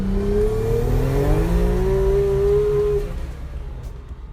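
A Datsun 240Z street-registered race car with an RB26 engine making about 600 hp revs hard: a loud, close engine note climbs steadily, then drops off as the throttle eases, with no voices.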